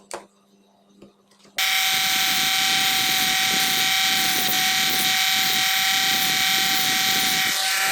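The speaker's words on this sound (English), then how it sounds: "I use mini grinder again." A mini grinder flattening the shaft of a 370 motor for a WPL C34 RC truck, a loud, steady high-pitched whine with a constant tone that starts abruptly and runs without pause, close by.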